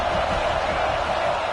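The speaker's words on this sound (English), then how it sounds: "This crowd ready to make its presence known." Dense, steady roar of a football stadium crowd, a broad wash of many voices with no single cheer rising above it.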